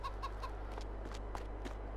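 Chickens cluck from a coop in the Farming Simulator 22 game, several short clucks repeating in the first half second by second, fairly faint over a steady low hum.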